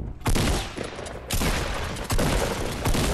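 Fortnite shotgun blasts ring out in a tight, loud burst of repeated heavy shots with booming low-end, several in quick succession over a few seconds, close and dominant.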